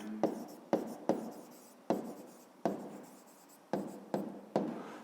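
Pen strokes scratch on paper as a maths exercise is worked out by hand. About eight quiet, separate strokes sound close up, each starting sharply and then trailing off.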